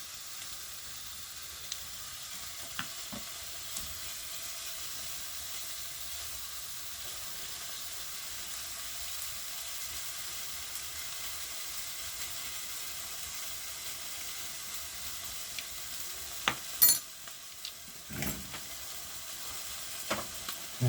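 Chunky vegetables frying in a pan with tomato puree make a low, steady hiss of sizzling, with a few clatters and knocks near the end and no speech.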